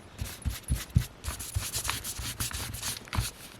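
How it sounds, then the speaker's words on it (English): A paintbrush dry-brushes white gesso onto paper, making quick, close, rhythmic scratchy strokes in a rapid back-and-forth pattern. "it's just taking gesso, white gesso, and just doing a dry brush"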